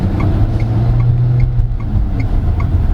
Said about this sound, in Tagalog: you can hear the engine note just changing it up and down